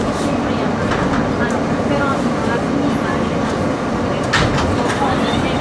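An R160 New York City subway train on the Z line rumbles along steadily with a broad roar and occasional high metallic squeals, loud and close from inside the car.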